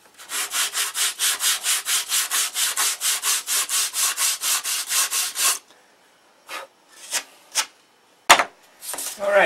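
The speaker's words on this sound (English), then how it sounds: "So now, I have to sand that." A wooden wing spar is sanded by hand in quick, even back-and-forth strokes for several seconds, close and clear. A few separate rubs and knocks follow after a pause.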